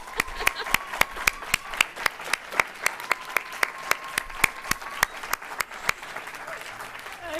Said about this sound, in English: I really enjoy hearing you clapping, so let's give it a clap.